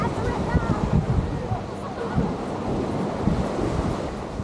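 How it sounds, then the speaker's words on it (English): Ocean surf rolling onto Waikiki Beach, a steady broad wash of breaking waves with mild wind buffeting on the microphone, continuous and fairly close. "I'm gonna clam up so you guys can hear the waves."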